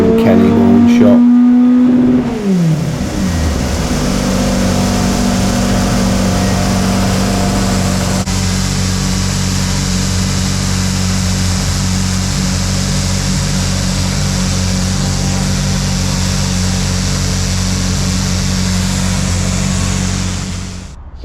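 A truck engine runs hard on a rolling road dynamometer, a loud sustained drone with a pitch sweep at the start, then a steady roar that holds for about twenty seconds before dropping off.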